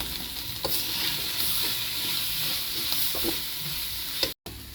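San Marino corned tuna sisig is stirred and fried in a pan, with a continuous sizzle and scraping spatula strokes at a close, moderate level. A sharp clack comes near the end, then a brief gap.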